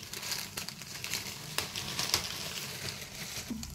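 Mustard seeds sizzling and crackling in hot oil for a Telangana chili pickle, a steady close fry with scattered sharp pops, no voices.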